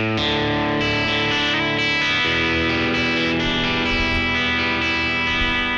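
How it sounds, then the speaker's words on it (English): Clean electric guitar picking a chiming arpeggiated lick, each string ringing into the next under lush reverb with a slight chorus shimmer, loud and close with sustained overlapping notes and no talking. "Reverb."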